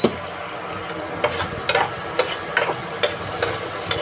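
Ginger garlic paste fries in a pan with a steady close sizzle, punctuated by about eight crisp clicks and scrapes as it is stirred.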